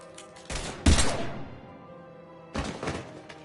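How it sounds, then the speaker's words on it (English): Gunfire in the video game Mass Effect, with heavy thumping shots in two bursts separated by a quieter pause, loud and close. "Now open fire!"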